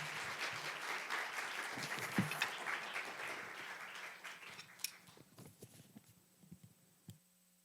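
A church congregation at a youth worship service applauds, a moderately loud patter that thins and fades over several seconds into a few scattered claps and quiet room hum.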